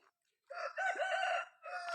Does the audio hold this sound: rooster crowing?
yes